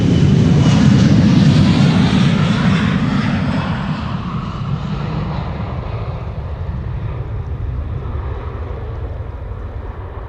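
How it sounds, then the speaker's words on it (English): A KLM Embraer 175 jet departing Amsterdam Schiphol Airport roars loudly with engine rumble and wind buffeting, gradually fading as it climbs away. "here we have the KLM Embraer 175 to Gdansk"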